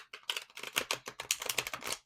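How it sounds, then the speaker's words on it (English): Tarot cards are riffle-shuffled in a quick, dense burst of crisp snapping and flicking, close and fairly loud, lasting about two seconds. "As I'm shuffling the tarot cards"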